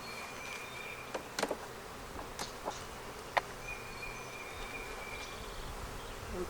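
A dense, even hum of honeybees working nectar-filled Flow Hive frames carries on throughout, broken by a few sharp clicks and knocks from the hive.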